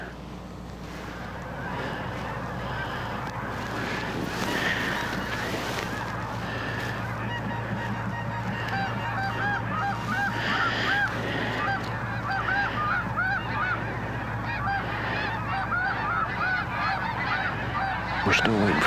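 Geese honking steadily during a goose hunt, a dense flock calling continuously and loudly at close to middle distance over a low rumble of wind or engine noise.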